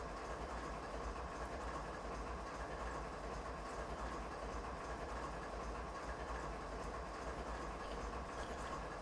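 Train rumbling steadily in Train Simulator 2019 on a Canadian mountain pass, a continuous dense rolling drone with faint rail clatter, even loudness throughout and no voices.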